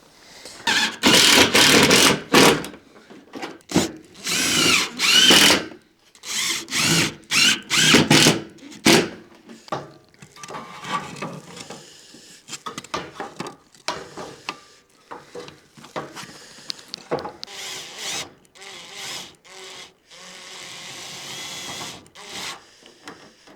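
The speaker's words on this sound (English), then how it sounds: "So I'll just tighten this second sheet" A power drill drives screws into a roof sheet on a sauna build outdoors, with several loud whirring bursts in the first half followed by quieter intermittent handling, rubbing and tool noises.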